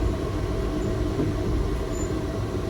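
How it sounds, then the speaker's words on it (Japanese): Inside the Manyosen Doraemon tram as it runs through a residential area, a low, steady rumble of wheels and motor hums under the car. Nothing else sounds above this continuous rolling drone. "電車は静かに住宅街を進んでいきます。"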